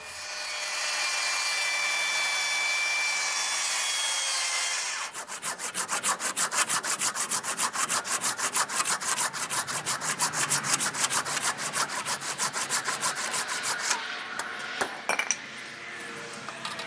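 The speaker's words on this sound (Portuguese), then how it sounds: "Corta sempre deixando o risco na peça, ó. Isso faz com que você tenha um bom parâmetro para poder trabalhar com a serra circular." A circular saw cuts along a marked line on wood. A steady, high whining hum is followed by a long, rough, rapidly pulsing cutting noise that winds down near the end.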